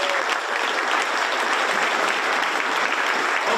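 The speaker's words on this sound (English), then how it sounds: "give them a round of applause" Conference audience at a real estate agent panel summit applauding, a steady dense wash of many hands clapping at even volume throughout, no talk over it.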